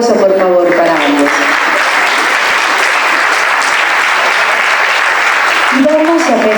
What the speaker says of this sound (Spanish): Fuerte el aplauso, por favor, para ambos.